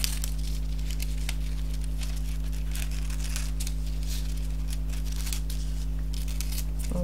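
Scissors cutting metallic foil paper for scrapbooking, a series of crisp snips and crinkling rustles set against a steady low electrical hum, fairly faint and close, with no talking.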